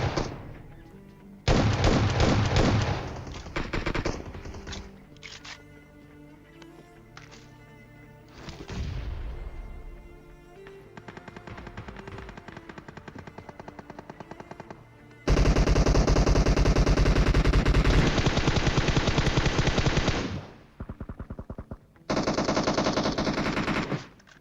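Rapid machine-gun bursts and single shots fire in a battle royale video game while a hot drop zone is being cleared, coming in loud stretches separated by quieter gaps, with a long sustained volley near the end.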